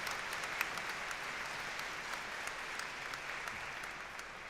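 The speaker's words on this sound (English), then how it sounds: "A round of applause, please, for them." A large audience at a graduation ceremony applauds steadily, producing a continuous, even rattle of many hands clapping that sounds fairly distant and holds for a few seconds without any talk.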